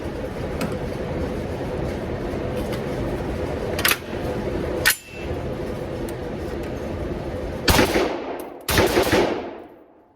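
Suppressed rifle shots from a 12.5-inch Hodge AR upper fitted with an RC2 suppressor and firing Norma ammunition ring out: a few sharp cracks spread apart, over a steady background hum and without talk.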